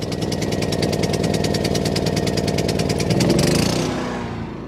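A bus being converted into a camper starts up and idles to warm: a steady, close, rhythmic engine chug that swells briefly near the end, then settles and fades a little.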